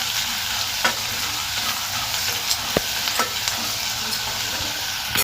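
Chopped vegetables sauté in hot oil for paneer veg biryani, a loud, steady sizzle with repeated spatula scrapes and stirring clicks close up throughout.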